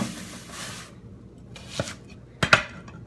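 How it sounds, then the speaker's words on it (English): A knife mincing a medium sweet onion on a cutting board, a few scattered sharp chops with a quick double strike near the end, close and clear. "now I'm going to mince a medium sweet onion"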